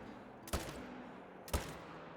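Two sharp rifle shots ring out about a second apart while hunting black bear in The Hunter, each a short, loud crack with a brief tail over a quiet outdoor background.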